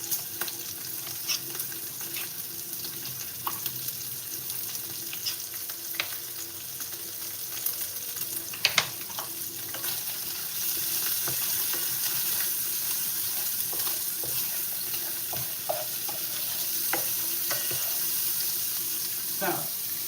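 Shrimp and cabbage frying in a pan, a steady soft sizzle with occasional stirring clatter and faint running-water sounds, fairly quiet and without talk.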